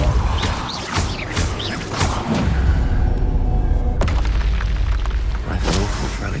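A Repulso spell goes off in Hogwarts Legacy as a loud, booming magical blast with crashing impacts, followed by a second heavy burst partway through over dense game sound.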